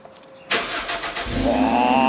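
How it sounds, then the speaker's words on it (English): A Toyota MR2 MK3 cranks after sitting unused for four months, then fires and catches, settling into a steady, rising idle that stays loud and close. "let's see if Toyota reliability is all it's cracked up to be. This is the first turn of the key"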